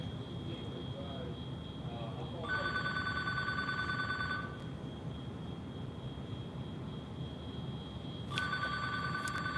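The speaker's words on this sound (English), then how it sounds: "When that phone rings, something happened." A telephone bell rings in two bursts of sharp electronic trilling, the first lasting about two seconds and the second starting near the end, over steady background hum and low murmur.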